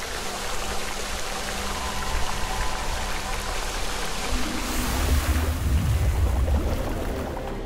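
Water runs steadily from an open valve in the Surface 8 game, a continuous rushing hiss that swells slightly toward the end, with no voices over it.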